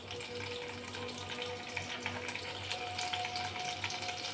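Potatoes for a vegetarian Bengali potato curry fry in a pan as crushed ginger goes in: a steady, moderate sizzle with faint scraping and stirring throughout, no voices.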